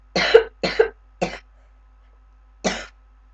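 Someone with a cold coughs in short bursts: three quick coughs close together, a pause, then one more, loud and near against silence.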